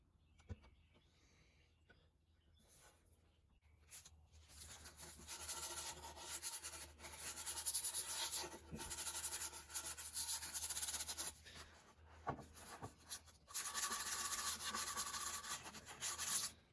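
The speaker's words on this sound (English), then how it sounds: "Here I'm just doing some wet sanding, and you can see the beautiful grain reveal here" Wet sanding on a walnut live edge charcuterie board: a steady, close-up rubbing and scrubbing that runs through most of the clip with brief pauses and changes in stroke.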